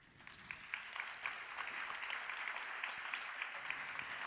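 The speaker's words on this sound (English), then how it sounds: "I think that video deserves an applause." An audience at the 48th IFAD Governing Council applauds after a video is shown, producing steady, fairly distant clapping from many hands that holds at an even level throughout.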